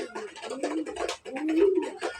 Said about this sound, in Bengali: সাদা কবুতরগুলো খাচ্ছে।